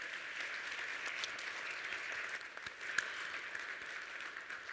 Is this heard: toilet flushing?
no